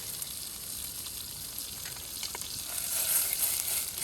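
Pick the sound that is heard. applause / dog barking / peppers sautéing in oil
peppers sautéing in oil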